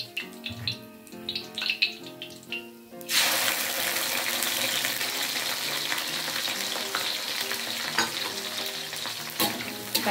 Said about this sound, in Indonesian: Kita goreng terinya sampai matang.